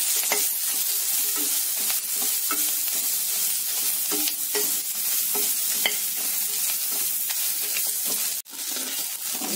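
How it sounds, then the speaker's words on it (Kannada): Cinnamon, cloves, cardamom, star anise, fennel, coriander, ginger, dried red chillies, onion and turmeric powder fry in a pan with a loud, dense, continuous sizzle and repeated scraping stirs, with no talking. "ಈರುಳ್ಳಿ ಹಾಕೊಂಡು ಅರಿಶಿನ ಪುಡಿ ಹಾಕೊಂಡು ಹುರ್ಕೊಳ್ಳೋಣ"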